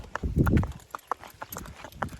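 Hooves of a horse clip-clopping in a steady series of sharp knocks, close by and fairly loud, with a heavier stamping burst near the start; a high-spirited horse being saddled and ridden.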